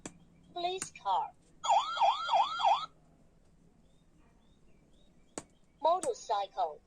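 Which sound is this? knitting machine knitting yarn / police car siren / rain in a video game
police car siren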